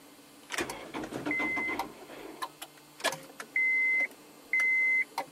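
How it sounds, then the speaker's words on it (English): A Honda Integra with a weak 10.6-volt battery fails to start as the key is turned, giving a few clicks and short electronic beeps, including two long steady warning tones, with no engine catching. "The car just don't want to start."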